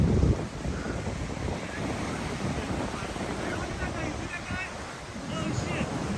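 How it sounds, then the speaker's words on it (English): Waves on a Pacific shore wash and splash in a continuous roar, mixed with gusty wind buffeting the microphone, fairly close but not loud. "let's see if I can get another good splash."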